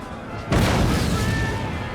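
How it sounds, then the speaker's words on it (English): A deep cannon boom from a 1791 battle scene with artillery firing into a forest, striking suddenly and loudly, then rolling on as a sustained rumble. "The cannons roared, blasting massive holes in the forest."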